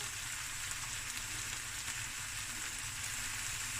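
Lamb chops frying in a pot with masala, a steady broadband sizzle that stays even and fairly quiet throughout, with no voices.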